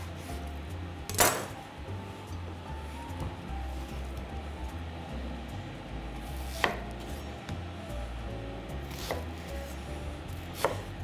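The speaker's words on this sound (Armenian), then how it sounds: "սոխն էլ շատ մանը չենք կտրատում" Onion cut into coarse pieces with a knife on a board, giving four sharp, well-spaced chops against a quiet kitchen background, with no talking.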